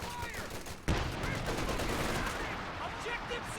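MG34 machine gun fire in a video game, rapid dense bursts with a sharp onset, sustained and chattering throughout the short stretch.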